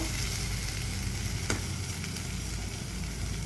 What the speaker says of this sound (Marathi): बटाटा असं हलवायचं